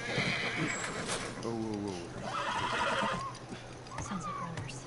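A horse in The Last of Us video game whinnies loudly twice with rising and falling neighs, over a steady game ambience with hoof clip-clops and a voice talking in between.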